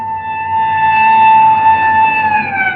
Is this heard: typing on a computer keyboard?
no